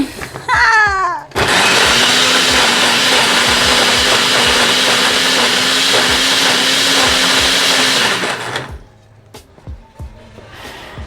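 Kitchen blender whirring loudly and steadily for about seven seconds while blending a Jamaican sweet potato pudding mixture, then switching off and winding down, with a voice speaking briefly before it starts.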